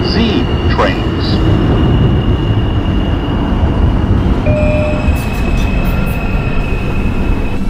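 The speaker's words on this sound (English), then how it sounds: "This is a 137th Street City College bound 2 express train via the 1 line." A 2 express subway train in the OpenBVE simulator, a loud continuous rumble of wheels on track with faint squealing tones, a brief whistle-like sweep near the start and a steady tone later.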